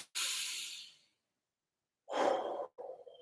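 Deep breathing during a beginner martial arts exercise session: a long, forceful hissing exhale, a pause, then another strong breath and a short follow-up puff, close and alone.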